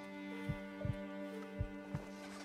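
A slow heartbeat thumps in The Long Dark survival game, four soft low pulses spaced apart and set under a steady hum.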